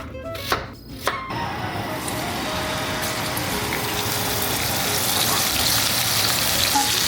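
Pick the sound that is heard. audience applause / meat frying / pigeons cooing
meat frying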